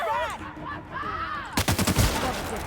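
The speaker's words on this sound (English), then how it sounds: "That was a good hip shot." Rifle fire in the video game The Outer Worlds: a quick volley of sharp, punchy shots bursts out midway, after a stretch of softer tonal in-game sound, with rapid repeated cracks close up.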